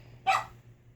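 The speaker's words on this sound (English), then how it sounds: "Sorry about the dog." A single sharp dog bark rings out once, close and fairly loud, then quiet low hum remains.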